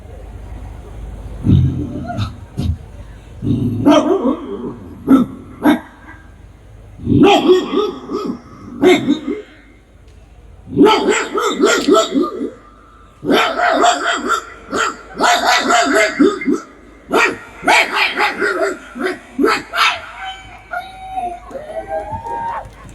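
A man imitates a dog barking as a mock street-corner political speech at a church stage show, delivering loud bursts of bark-like yelps and growls in rhythmic phrases, with short pauses between.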